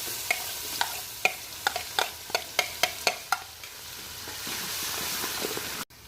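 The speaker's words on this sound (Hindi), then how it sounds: "और 1 मिनट के लिए इसको बस फ्राई करेंगे" Beef sautéing in a pan for a kitchen recipe: a spatula stirs and scrapes in a quick string of sharp clacks over a steady close sizzle, which then continues alone, with no talking.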